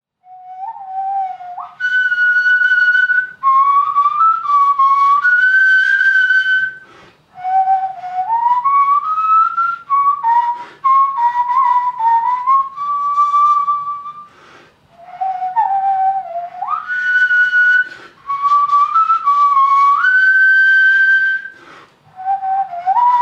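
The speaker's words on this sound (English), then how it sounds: "The curator for the Slovenian National Museum had a clay replica of the flute made." A clay replica of an ancient flute is played as a solo melody of clear, breathy tones that glide and bend between pitches, arriving in several long phrases separated by brief pauses, close and prominent.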